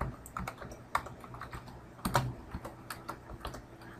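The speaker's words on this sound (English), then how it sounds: "now we're going to type in ipconfig space" Someone types a command into a Windows 8 command prompt on a computer keyboard, a close run of quick irregular key clicks with a few louder keystrokes.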